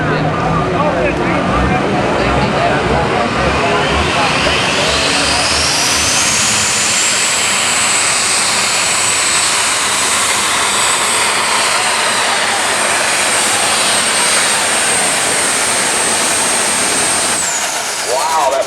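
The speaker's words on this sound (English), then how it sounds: "That thing sounded like a turbine tractor going down the track." A diesel super stock pulling tractor roars loudly down a pulling track at an outdoor tractor pull, its engine noise steady and continuous, rising into a sustained high turbine-like whine before cutting off near the end.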